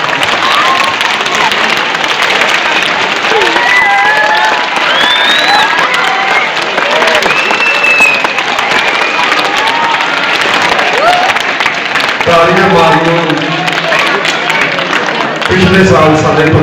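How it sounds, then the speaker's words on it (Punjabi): Loud, sustained clapping from a large group of schoolchildren at a village school fills the space, a dense roar of hands with excited voices mixed in. "ਪਹਿਲਾਂ ਤੁਸੀਂ ਸਾਰੇ ਆਪਣੇ ਆਪਣੇ ਤਾਲੀਆਂ ਮਾਰ ਲਓ ਜੋਰ ਦੀ"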